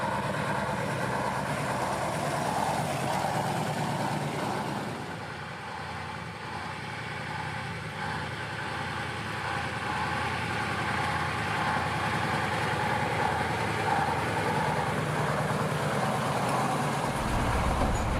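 A Soviet KrAZ-256B1 truck drives along, its heavy diesel engine droning continuously with a broad rumble and steady rattling of the cab and body, loud and close throughout with only a slight dip in level partway.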